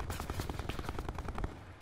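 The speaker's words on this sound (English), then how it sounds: "Getting shot at." Rapid automatic gunfire in the battle-royale game Call of Duty Blackout, a steady stream of fairly faint, evenly spaced shots rattling continuously for under two seconds, with no voices.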